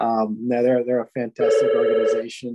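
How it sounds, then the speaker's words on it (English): A desk telephone rings in an office, a steady electronic bell tone sounding loudly for about a second under a man's ongoing speech. "I apologize for the noise from my phone"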